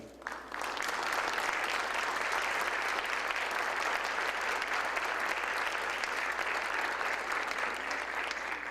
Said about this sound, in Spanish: pido por favor un fuerte aplauso